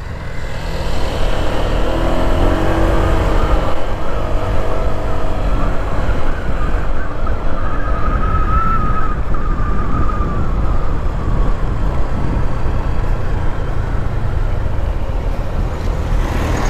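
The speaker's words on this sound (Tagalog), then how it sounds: "Palampasin muna natin yung mga truck." Heavy trucks rolling past on a road next to stopped Honda Click V3 scooters, a loud continuous engine rumble and tyre roar that holds steady close by for the whole stretch, with no talking.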